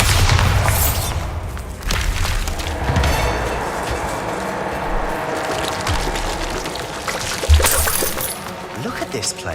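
Bombarda explosion spell cast in Hogwarts Legacy, a dense rumbling blast with shattering debris and crackling, loud and continuous with a sharper burst near the end, mixed with game sounds.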